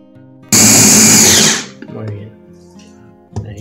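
A blender whirs loudly for about a second as it purées a creamy soup of squash, corn and onion with a splash of olive oil, then cuts off abruptly. A voice talks briefly afterward.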